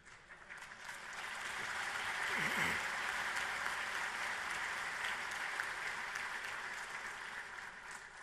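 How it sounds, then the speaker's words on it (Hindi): Applause from a large crowd during a speech, the clapping swelling within the first two seconds and holding at a steady, slightly distant level. "उसमें तो ताली बजा सकते हैं।"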